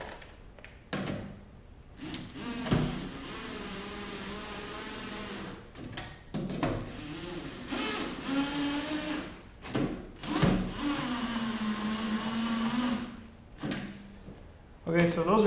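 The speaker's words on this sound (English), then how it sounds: "I'll spin these all down with the electric impact" An electric impact driver spins rivet nut bolts down in a series of short whirring bursts with rising and falling motor whine, separated by brief pauses and handling knocks.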